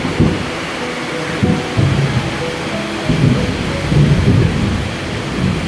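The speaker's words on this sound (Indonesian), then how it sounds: "saat kondisi hujan deras, angin kencang dan petir besar" Heavy rain pours steadily at a crowded eatery in Yogyakarta while deep thunder rumbles roll in repeatedly beneath the loud hiss of the downpour.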